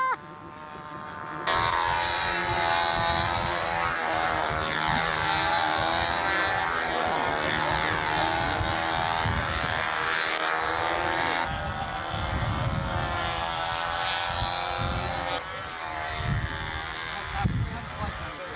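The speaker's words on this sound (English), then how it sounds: "There's Lou McFarlane taxiing in. Ready, I guess, for his takeoff." Propeller airplane taxiing toward takeoff at a model aviation event, a steady droning engine tone with a buzzing whine that holds throughout, fairly close and loud, with wind noise and someone talking over it.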